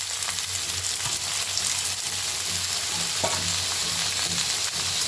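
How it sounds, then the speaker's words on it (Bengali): Sliced broad beans and potatoes hit hot oil in a pan, bursting into a loud, continuous close-up sizzle with a few soft scraping stirs. "দুটোই একটু ভেজে নিয়ে কেটে রাখা সিম আলু ঢেলে দিলাম।"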